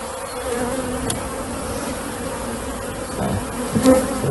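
Honeybees swarm around an opened hive during an inspection, a dense continuous buzzing close by with a few louder passes of single bees near the end.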